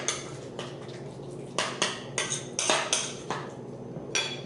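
A spoon stirs seasoning into guacamole in a bowl, giving a series of close, distinct scrapes and light clinks against the bowl, around eight strokes in an uneven rhythm.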